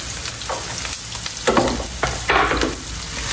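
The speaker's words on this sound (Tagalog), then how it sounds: "igigisa-gisa lang natin yung ating sibuyas ng ganyan, ng very light" Onion and garlic sauté in a pan for a crab dish, a steady close sizzle with bursts of stirring and scraping at intervals and no talking.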